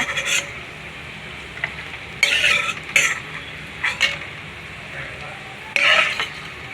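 Boondi cashew curry base of onions frying in oil gives a quiet, steady sizzle, punctuated by several bursts of spatula scraping and metal clinks against the pan, close by.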